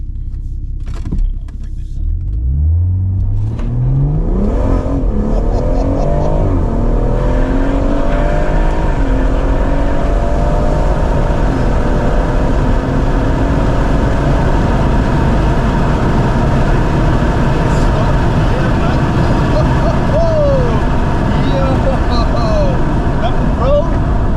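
A BMW M140i engine revs hard and pulls through rising gears on a quarter-mile acceleration run, loud and close from inside, the roar climbing steadily for over twenty seconds.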